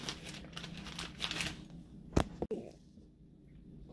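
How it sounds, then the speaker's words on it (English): A small resealable plastic bag holding a toolkit crinkles close up in a few soft handling bursts, with one sharper crackle, then goes quiet. "It's in a nice little resealable baggie."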